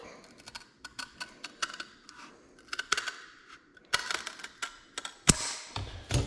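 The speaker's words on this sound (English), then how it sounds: "these scissors just cut right through this stuff" Scissors snip through stiff template material that is more rigid than cardboard, giving a series of sharp, close clicks and crunches in irregular bursts, growing denser and louder toward the end.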